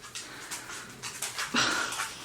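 A dog pants in quick, breathy bursts, with a thin whimper partway through, close to the listener and loud.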